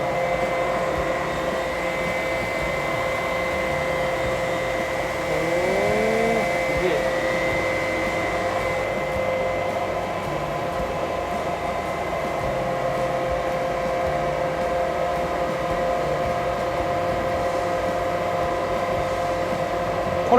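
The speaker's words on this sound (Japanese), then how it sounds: "こちらテーブルが自動で旋回しますので、データで変更できる" Cylindrical grinding machine in a factory, its table swiveling automatically, giving a loud continuous mechanical hum and whine with a steady drone throughout and faint voices in the background.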